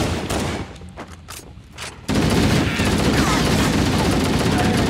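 Sustained automatic gunfire in Halo: The Master Chief Collection, a rapid continuous burst that fills the second half, preceded by scattered shots and game noise.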